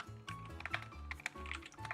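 Rapid, irregular typing on a computer keyboard, with crisp close-up clicks and occasional heavier key thumps in uneven bursts; no speech.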